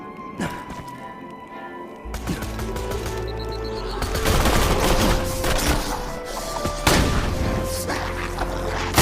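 Turrets in Borderlands 2 firing rapid bursts of game gunfire, dense booming shots and thuds piling into a loud continuous barrage with sharp impacts.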